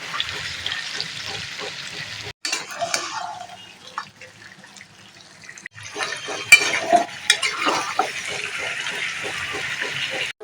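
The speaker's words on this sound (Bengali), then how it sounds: "আমি এখন এই চিকেনের ওপর এই ফেটে রাখা দইটা দিয়ে দিচ্ছি" Split yogurt added to chicken in a kadai and stirred, with wet sloshing, spoon scrapes and soft sizzling that pause briefly and return, close and moderate in level, no talking.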